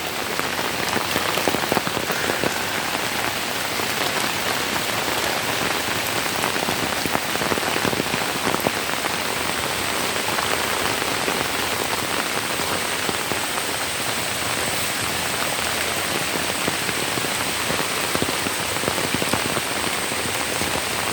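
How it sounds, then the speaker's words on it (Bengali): Rain pours steadily onto taro leaves beside a pond and paddy field, a dense constant patter of drops that stays even and close for the whole stretch, with no voices. "কচু পাতার উপরে বৃষ্টি পড়তেছে আর পানি লাফালাফি"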